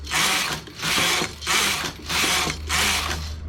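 Carriage of a domestic knitting machine swept back and forth across the needle bed, knitting rows: four loud rattling, whirring passes in a steady rhythm, each roughly half a second long with short pauses between, close and alone.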